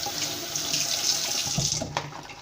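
Running tap water pours steadily into a kitchen sink while a dish sponge is dunked, squeezed and rinsed after washing up; a close, continuous splashing hiss with brief sloshes near the end, and no voices.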